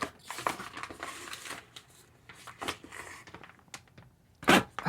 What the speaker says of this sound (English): those are strong zippers